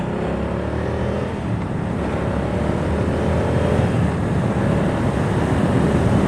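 A 2023 Moto Guzzi V100 Mandello S being ridden at speed, dominated by a loud, steady wind roar over a low engine drone, with no talking.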